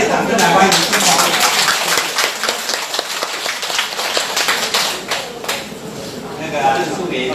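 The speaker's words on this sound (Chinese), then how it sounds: "我们热烈掌声来欢迎新朋友" Audience applause welcoming new friends at a group meeting in Zhongli, brisk clapping from a room of people fading after a few seconds, with voices talking through and over it.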